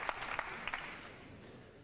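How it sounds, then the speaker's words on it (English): Spectators applaud at a 2000 World 9-ball Championship pool match, a few sharp bursts of clapping early on that thin out and fade into quieter crowd murmur. "Crowd cheering on this Davis comeback."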